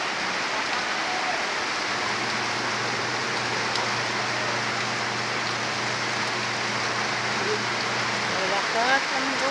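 Heavy rain pours down outside a house, a dense, steady hiss of drops on surfaces that stays loud and unbroken throughout, with a faint low hum underneath and no voice.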